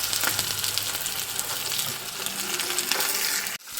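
Onions, garlic, dried chillies and curry leaves sauté in hot oil as a tempering for a Kerala jackfruit curry, giving a steady close hiss and sizzle with light stirring scrapes that cuts off abruptly near the end.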